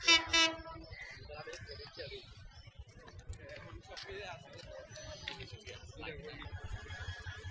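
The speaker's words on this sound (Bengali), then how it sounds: "এখন যে ট্রেনটা আসতেছে আপনি দেখেন, ব্রাহ্মণবাড়িয়া রেল স্টেশনের ট্রেন আসতেছে" A train pulls into Brahmanbaria railway station. A short tonal blast opens the scene, then a low, fairly distant rolling rumble continues under people talking.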